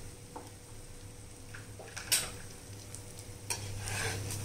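Onion paratha frying in oil on a pan, a quiet, even sizzle with a few light utensil clicks and taps scattered through.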